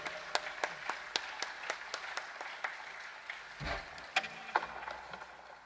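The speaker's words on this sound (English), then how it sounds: "give him a huge round of applause" A concert audience at a guitar duo's performance in a medieval fortress gives faint, sparse applause: a handful of distinct, separate handclaps scattered across a quiet, hushed space.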